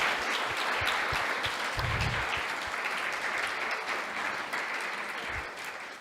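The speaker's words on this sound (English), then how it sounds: "I think Prabhu deserves another round of applause." Sustained applause from a live audience at an evening talk on tales of the Ramayana, a steady dense wash of clapping throughout with a few louder hand claps standing out near the front.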